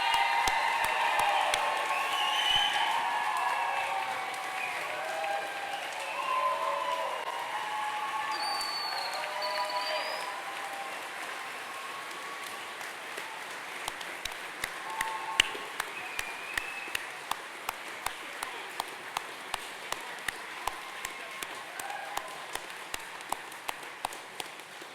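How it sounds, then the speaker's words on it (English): A seated audience at a military training unit graduation ceremony applauds the graduates, a fairly faint wash of clapping that fades out and leaves a few scattered, regular claps near the end. "We get a round of applause for all of our graduates."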